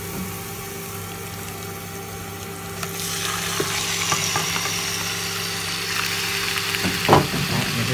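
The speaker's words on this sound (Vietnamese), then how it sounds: "Rồi giờ mình sẽ cho thịt vào luôn nha mọi người." Pork hits a hot pan with minced shallot and garlic, sizzling and stir-frying as lemongrass-chili pork cooks; a steady frying hiss grows louder midway with scraping and clinks of the utensil, no talk.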